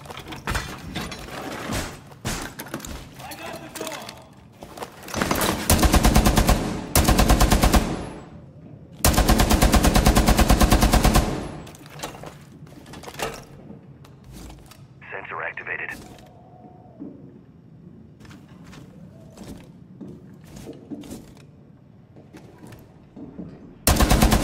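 LMG machine gun fire in Rainbow Six Siege, long loud sustained bursts mixed with other game sounds, radio chatter and speech running throughout.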